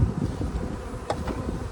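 Honey bees buzzing in a nuc hive, a close, dense and continuous droning hum that stays level for a short stretch.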